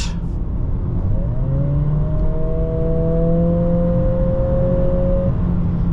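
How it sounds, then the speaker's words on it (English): Artificial engine noise piped into the cabin of a 2025 Acura ADX with 1.5 engine and CVT in sport mode, rising in pitch while accelerating; smooth, buzzy, synthetic tone like an electric shaver. "that's where you're getting that pumped in engine noise, which sounds like a electric shaver"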